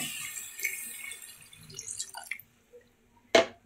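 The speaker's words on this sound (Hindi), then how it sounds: "अब पानी डाल दूंगी इसमें ये मैंने पानी डाल दिया है" Water poured into a pan of masala chicken being cooked at home, a splashing, hissing pour through the first half that trails off, followed by a short sharp drip or clink near the end.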